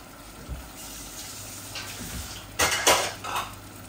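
Cherry tomatoes and apple dropped into a pan of cooked spices for a sour salmon-head dish, with a few close metal knocks of the pan and spoon and a brief louder clatter near the end.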